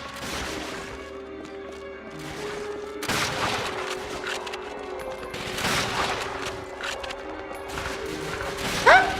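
Enemy gunners open fire in Call of Duty: Finest Hour, with bursts of gunfire and heavy impacts rolling in at moderate distance over a busy wartime battle din, one sharper hit near the end.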